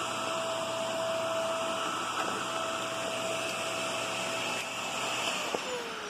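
A Shark Navigator NV22LWM31 upright vacuum cleaner runs steadily at close range with a constant whining motor drone and airflow hiss, its pitch dipping slightly near the end.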